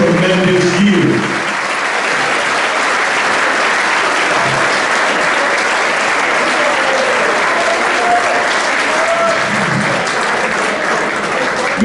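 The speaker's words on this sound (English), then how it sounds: "All round of applause for your coaches once again." Banquet crowd applauding football coaches, loud dense clapping sustained throughout with some voices and cheering mixed in.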